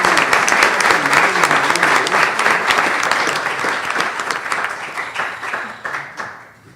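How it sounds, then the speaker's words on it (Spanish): An audience at a molecular genealogy conference applauds an author with brisk, dense clapping that holds strong for several seconds and then tapers off to silence. "Pido un aplauso"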